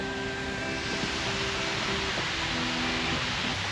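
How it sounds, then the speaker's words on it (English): Hidden waterfall along a trail, heard as a steady broadband rush of falling water, continuous and even, with faint tonal hums layered over it and no talking. "Let me see if I can see the hidden waterfall."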